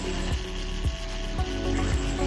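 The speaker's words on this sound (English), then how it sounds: "we proceed to the next process, which was drilling the hole beside the big one" Drilling a hole beside a larger one while fabricating a peristaltic pump, with a steady power-tool whir and periodic low thumps repeating about every half second as the bit works the part.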